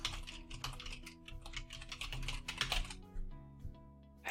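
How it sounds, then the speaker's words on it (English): Rapid keystrokes on a computer keyboard as an email address is entered into a sales funnel opt-in page, a close, steady patter of clicks with short pauses and no talking. "if I type in my email address"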